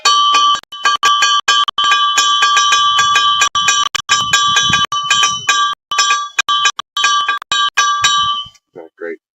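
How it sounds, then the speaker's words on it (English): A Toyota truck drive shaft, being worked on during transmission removal, rings like a bell under a rapid series of metal strikes: loud, close, sustained tones in quick irregular bursts that stop abruptly near the end. "I think it's because of the sound of that drive shaft."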